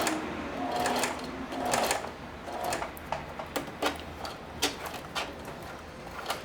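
Sewing machine stitching a thick denim seam for an apron: a fast mechanical whir at first, then slowing into separate sharp clacks as the needle labors through the heavy fabric, close and clear.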